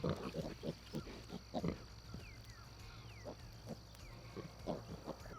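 A sow lying in an open pasture nursing her piglets gives a steady run of low rhythmic grunts, soft and close, with a faint high background hum and occasional outdoor noise.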